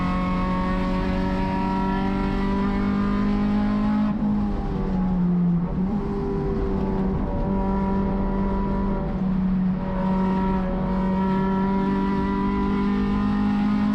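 A race car drives a lap at Thunder Hill Raceway, its engine droning at sustained high revs with a couple of brief dips and shifts, loud and close from onboard.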